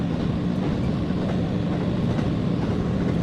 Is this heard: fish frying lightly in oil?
no